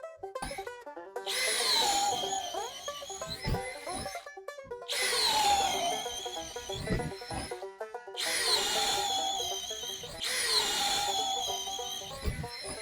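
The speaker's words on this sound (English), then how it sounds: "Skill compact hammer drill. 2-amp hour battery. 1/2 inch Bosch twist bit." A Skil compact cordless hammer drill on a 2-amp-hour battery, fitted with a 1/2 inch twist bit, whines and rattles in four loud bursts, each lasting about two seconds, with short pauses between holes.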